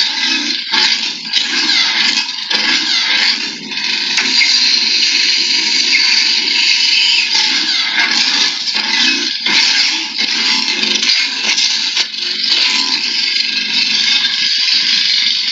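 A lightsaber replica gives off a steady, loud, dense hum with a buzzing edge, captured close on a microphone without noise cancelling and running unbroken throughout, with no voices.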